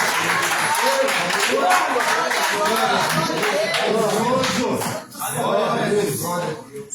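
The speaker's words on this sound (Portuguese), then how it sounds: "Pode aplaudir e glorificar o nome do Senhor Jesus Cristo" Sustained applause from a church congregation fills the space, dense and steady, with a brief dip before the clapping swells again.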